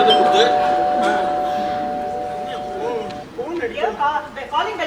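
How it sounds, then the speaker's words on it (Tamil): A doorbell rings with a sustained electronic chime tone for a few seconds, followed by people chattering and talking in a room. "காலிங் பெல் அடிச்ச மாதிரி இருக்குல்ல."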